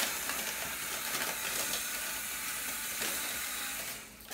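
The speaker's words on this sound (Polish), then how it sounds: "Jeszcze trochę popsikam, żeby one dostały trochę oleju" Short hissing spray of oil mists over shiitake mushrooms, a soft continuous airy hiss up close lasting a few seconds before tapering off.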